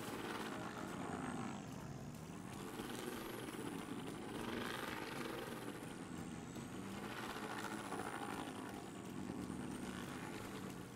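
A hovering search drone in The Division 2, a steady whirring rotor hum with shifting tones, holding continuously near and fairly loud for the whole stretch with no talk over it.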